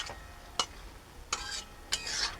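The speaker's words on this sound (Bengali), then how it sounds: "দিয়ে একটু ভালোভাবে মিশিয়ে নেব" A spatula stirs a thick curry of tender bottle gourd and fish head with coriander leaves in a pan. Three or four quiet, close scrapes come at irregular moments over a faint background hiss.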